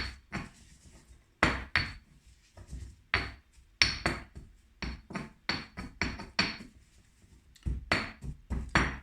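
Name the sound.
stirring coconut into chicken curry paste in a pan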